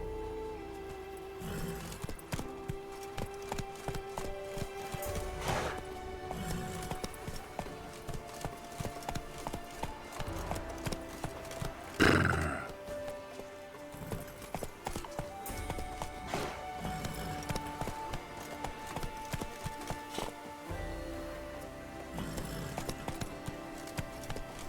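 Roach, the horse in The Witcher 3: Wild Hunt (Blood and Wine DLC), clip-clops steadily through most of the stretch, with a brief neigh-like burst near the middle and faint spoken commands.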